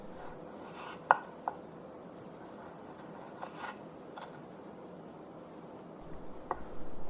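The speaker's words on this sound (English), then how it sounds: "I'm going to cut this into thin pieces" A knife slices baked mullet roe into thin pieces, giving a few faint, close, sparse cuts and light taps over a quiet background, with no talking.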